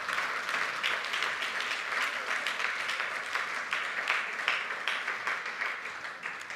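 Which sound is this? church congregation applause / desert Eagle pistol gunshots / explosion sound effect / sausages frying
church congregation applause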